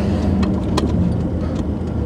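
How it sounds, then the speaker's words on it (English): A car passes on a town road, its steady engine and tyre rumble loud and close throughout, with no one speaking. "Oh, there's a car coming."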